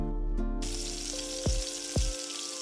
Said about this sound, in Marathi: पुऱ्या तळत असताना गॅसची फ्लेम मीडियम ठेवायची आहे.